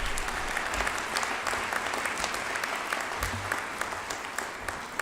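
Sustained applause from a large audience at a winter doctoral hooding ceremony, steady and dense clapping filling the hall for the full stretch without pause.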